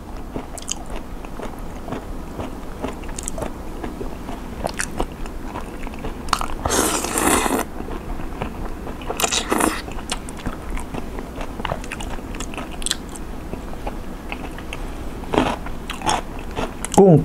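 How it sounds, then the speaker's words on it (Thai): Close-up crunchy chewing and biting of raw shrimp, moist crackles and crunches repeating steadily, with a few louder bites standing out. "เสียงกุ้งเด้งมากกรุบกรุบกรุบ"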